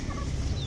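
Desi chickens clucking on a hot-weather poultry farm, a steady close murmur of many birds milling about outdoors with no talk.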